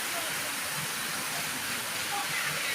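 Heavy rain pours down in a dense, continuous hiss that stays even and fairly loud throughout, with no breaks.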